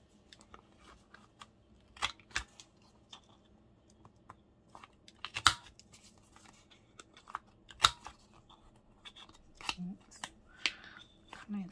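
Paper corners being trimmed round with scissors for a junk journal, sparse sharp snips and rustles scattered among quiet handling noises, close and soft.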